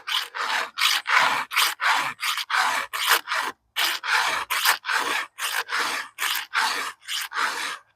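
Rhythmic hand-file strokes on the teeth of a chainsaw ripping chain used for milling, each stroke a sharp rasping burst with brief gaps, about two per second, close and loud, with no speech.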